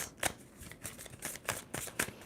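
Tarot cards are shuffled in quick, crisp riffles, several short bursts in a steady rhythm, close and fairly quiet.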